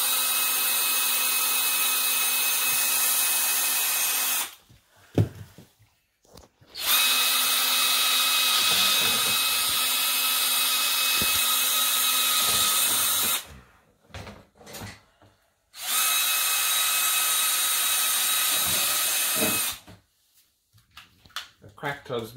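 A power drill bores holes through the wall of a plastic snake tub for a ball python enclosure, running in three long, steady whirring bursts separated by short pauses, with brief talk in the gaps.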